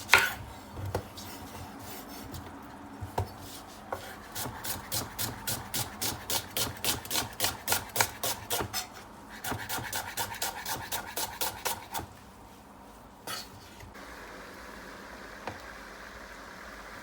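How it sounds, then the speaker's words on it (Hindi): Onions being chopped with a knife on a cutting board for a mutton liver and spinach curry, a fast run of regular crisp blade strikes with short pauses between bursts, close and fairly loud, with no voice over it. "प्याज को काटते हैं"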